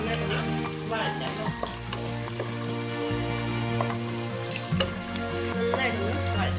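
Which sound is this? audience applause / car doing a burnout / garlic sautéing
garlic sautéing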